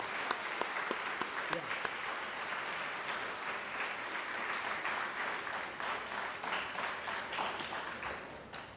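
An audience applauding at a college inauguration for first-year engineering classes, a dense sustained clapping from a crowd with sharp individual claps early on, holding steady before thinning slightly toward the end.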